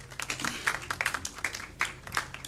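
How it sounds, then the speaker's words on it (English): An audience at a plenary session claps, a scattered burst of hand claps that is fairly faint and uneven, with a few sharper individual claps standing out. "Give them a hand clap again."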